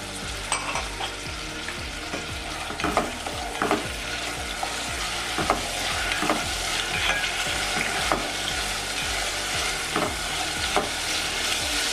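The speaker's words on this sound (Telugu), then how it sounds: "ఇప్పుడు ఉల్లిపాయ ముక్కలు పచ్చిమిరపకాయ ముక్కలు వేసుకుని దోరగా వేగే వరకు వేయించుకోవాలి" Onion and green chilli pieces frying in hot oil, a steady close sizzle broken by regular scraping stir strokes of a spatula against the pan, with no talk.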